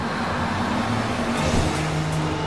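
Steady road traffic from a cartoon, a continuous broadband rush of car engines and tyres with low motor hum, loud and unbroken throughout.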